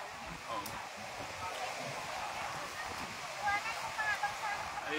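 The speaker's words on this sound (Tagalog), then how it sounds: "Laki-lakas ng alon." Strong waves at Tangus Beach in Dinadiawan, Philippines, crash and wash in a continuous roaring surge, with faint voices of bathing children and birdlike chirps mixed into the background.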